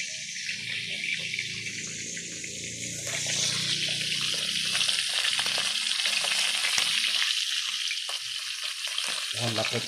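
Fish frying in a pan for supper, a continuous loud sizzle and crackle of hot oil that swells slightly midway and carries on steadily to the end.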